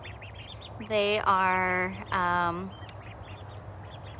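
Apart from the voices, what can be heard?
young ducks quacking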